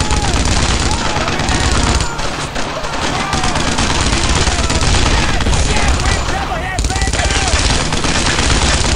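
A German MG nest in Brothers in Arms, set in June 1944, pours out loud, continuous machine-gun fire amid a dense battle din, with voices shouting over the chaos.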